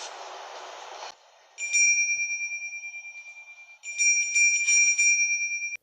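A bright, sustained sleigh bell rings out twice in The Polar Express, each ring lingering with a steady shimmering tone, after a short burst of rushing noise at the start.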